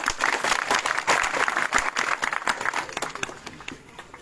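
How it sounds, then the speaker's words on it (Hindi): Scattered clapping rises from an outdoor farmers' victory rally crowd in a Rajasthan village, uneven hand claps swelling in the middle, then thinning out and fading toward the end. "जोरदार तालियों से स्वागत"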